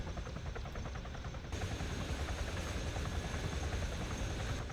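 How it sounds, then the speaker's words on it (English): A military helicopter lifts off in the video game ARMA 3 with a team aboard for extraction. A loud, steady rotor and engine drone runs throughout and swells fuller partway through. "your helicopter takes off for extraction with the team inside"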